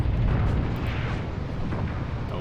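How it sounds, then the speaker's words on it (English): Artillery support explosions in an Eastern Front war game sound as a dense, loud, booming rumble, heaviest at the start and then easing slightly into a steady low roar of distant battle. "Filatov is calling in some actual artillery support."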